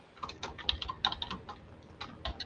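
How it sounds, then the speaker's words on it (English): Computer keyboard keys being typed, a quiet, irregular patter of individual clicks in quick bursts, faint and somewhat distant with no voices. "Yeah, I can hear typing"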